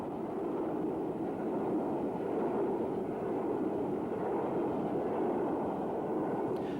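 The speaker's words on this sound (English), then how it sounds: "A Black 5 heads north through the station with a semi-fast train" A Black 5 steam locomotive hauls a semi-fast train north through a station on the West Coast main line in the Lune Gorge in the 1950s, a steady, loud, unbroken rumble that holds evenly throughout with no voices.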